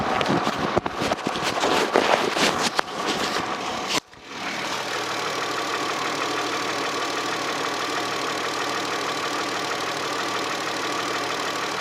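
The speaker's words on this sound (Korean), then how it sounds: "엔진음 바로 들어보도록 하겠습니다" A Hyundai Grandeur TG sedan's V6 engine idles steadily with a smooth, even hum, after a few seconds of clattering and shuffling noises at the start.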